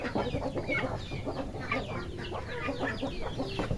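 Young chicks and ducklings peep and chirp in a busy, overlapping chorus close by, with rapid high calls repeating throughout and no speech.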